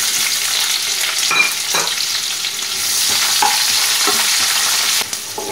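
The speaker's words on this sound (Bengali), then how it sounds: "জিরের ভাজা গন্ধ বেরুলে আমি দেবো কুচানো পেঁয়াজ।" Chopped onion added to hot oil with cumin seeds in a pan fries with a loud, steady sizzle, with a few stirring scrapes of a spatula throughout.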